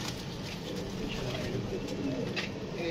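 Racing pigeons cooing at a cup flying event, soft repeated coos set against steady broadband background noise throughout.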